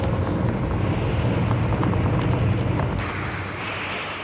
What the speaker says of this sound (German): Und bei höheren Geschwindigkeiten treten außerdem starke Windgeräusche auf.